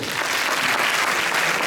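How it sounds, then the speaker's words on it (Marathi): An audience clapping together in a room, a dense, loud, steady burst of applause lasting under two seconds with no talking. "पण टाळ्या वाजवा एकदा तिथे"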